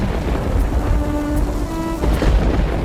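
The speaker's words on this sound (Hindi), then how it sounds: "फिर से बारिश शुरू हो गई" Rain and rumbling thunder in a Hindi animated story, falling on a small, broken-down village hut, a steady broadband wash with low rumbles and a brief tonal hum midway, loud and continuous with no talking.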